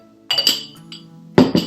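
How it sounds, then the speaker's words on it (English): A spoon clinks against a coffee cup while sugar cubes and cream are stirred in, two brief bright bursts of ringing taps separated by a quiet pause. "and stir, and then you have a delightful cup of coffee"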